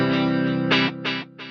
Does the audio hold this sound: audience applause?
no